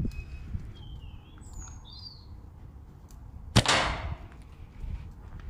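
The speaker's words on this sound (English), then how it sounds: "I've hit the pigeon he's down you can hear the shot actually pass through him" A slingshot shot strikes a pigeon perched on a beam, one sharp close snap followed by a brief rushing decay; faint bird chirps come beforehand over a quiet outdoor background.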